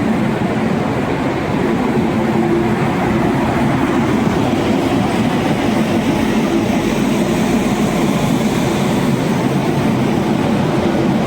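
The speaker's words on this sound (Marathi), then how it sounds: "समोर एक ट्रेन दिसते" A Kalyan–Pune train rumbles steadily past at close range, a continuous loud roar of wheels on rails with faint clacking throughout.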